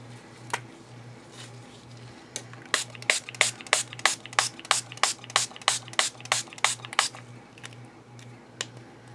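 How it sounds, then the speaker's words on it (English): A spray bottle mists water onto a book being repaired, giving a rapid run of about fifteen sharp, evenly spaced hissing pumps, close and clear over a low steady hum. "so let me spray it with a little bit of water"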